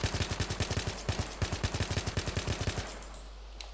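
Assault rifle firing on full auto in Battlefield 3: one loud, steady burst of rapid, evenly spaced shots runs for nearly three seconds, then cuts off and leaves a faint hiss.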